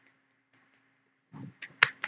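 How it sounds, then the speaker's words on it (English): A one-handed clap made by flinging the fingers onto the palm: a few faint ticks, then a quick cluster of soft, close slaps near the end, with no voices. "I'm actually like flinging my fingers onto my palm. It's called clapping with one hand"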